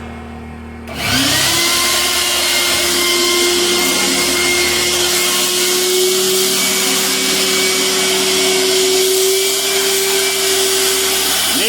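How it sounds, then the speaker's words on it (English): A shop vacuum starts up abruptly and roars loud and steady, a constant whine and rush of suction that continues without pause, sucking debris from a crack in a culvert. "I'm about ready to shop vac the crack"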